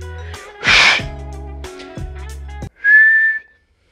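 A breathy, airy whistle attempt is followed by low hums and then a clear, sustained high whistle that fades out.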